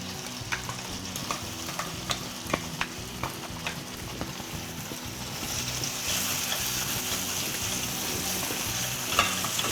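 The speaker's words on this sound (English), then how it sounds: "saute the masala until the raw smell goes away and you smell a good aroma coming through" Almond, onion, garlic and ginger masala paste sautéing in a pan, with a steady sizzle under scattered scraping strokes of a spatula, growing into a denser, louder fry near the end.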